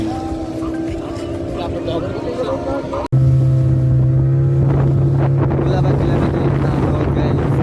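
A passenger boat heads toward Alibag by sea, its motor droning steadily with wind buffeting the microphone, then the engine note jumps louder and lower after a brief break.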